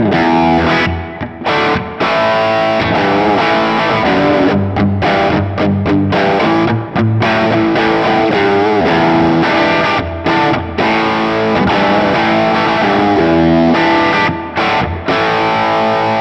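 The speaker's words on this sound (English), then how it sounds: "Next up, we've got Brit Rock Plate, which I've based around the London Plate reverb type" Distorted electric guitar run through a Fractal Audio Brit Rock Plate reverb built on the London Plate type, loud and continuous with chords and riffs ringing into a dense plate wash, no talking.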